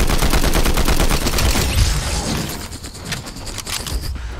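Rapid automatic gunfire from the Combat Assault Rifle in Fortnite, a dense burst of shots that thins into scattered, quieter pops and mechanical clicks over a few seconds, with no talking.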